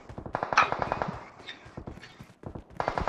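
Gunfire in a battle royale video game: rapid, rhythmic bursts of automatic shots, loud and close, with short pauses between volleys.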